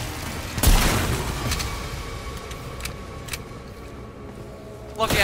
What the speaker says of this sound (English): Lucky I had my shotgun out.